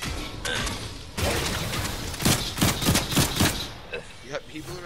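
Gunfire aimed at barrels in Fortnite, a cluster of loud, sharp bursts and impacts in quick succession over a noisy game background.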